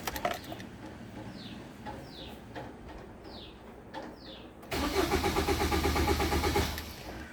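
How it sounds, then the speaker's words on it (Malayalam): Faint chirps sound over a quiet background, then a 2007 Suzuki Swift diesel's starter cranks loudly in an even, pulsing rhythm for a couple of seconds and dies away without the engine firing. "വണ്ടി സ്റ്റാർട്ടാകുന്നില്ല. നമുക്ക് ഒന്നുകൂടി ശ്രമിക്കാം."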